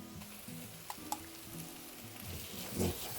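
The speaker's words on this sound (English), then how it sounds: "And I'm going to scrape it on the bottom. Help get those flavorful bits up." Browned bits are scraped off the bottom of a sizzling pan of ground beef for a baked spaghetti casserole, a soft steady sizzle with a few light scrapes and a louder scrape near the end, close by.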